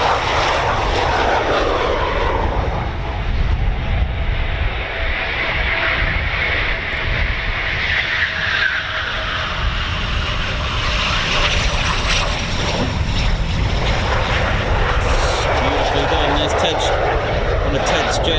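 A Eurofighter Typhoon FGR4 jet flies during evening night flying at RAF Coningsby, its engines giving a loud, sustained roar that holds strong from start to finish.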